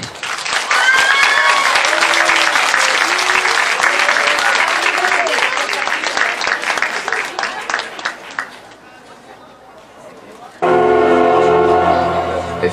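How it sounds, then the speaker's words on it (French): Convention audience applauding a cosplayer on stage at a cosplay contest, loud sustained clapping with cheers for about eight seconds, fading out before loud amplified music kicks in near the end. "un tonnerre d'applaudissements, merci."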